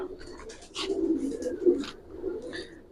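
Giribaz pigeons cooing in a loft, several soft throaty coos overlapping in short phrases, close by, with light fluttering and rustling around them.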